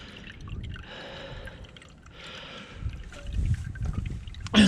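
Engine oil draining from a Citroen C4 Grand Picasso during a service, a soft liquid trickle and drip heard close under faint background noise, with a louder clunk at the end.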